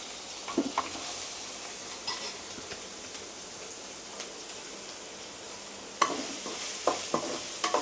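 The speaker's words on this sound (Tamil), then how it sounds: "ஒரு மீடியம் சைஸ் வெங்காயம் நறுக்கி வச்சுருக்கோம், அதை போட்டுக்கலாம்." Chopped medium-size onion sautéing in a hot pan for a prawn gravy, a continuous soft sizzle broken by occasional spatula scrapes and light clinks, no voices.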